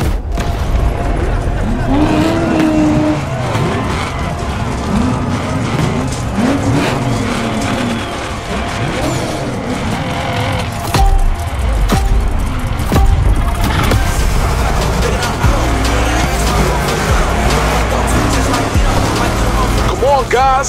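A Chevrolet Caprice engine revs and roars continuously over dense, loud racing game audio from The Crew Motorfest, with tire noise and other vehicles mixed in throughout.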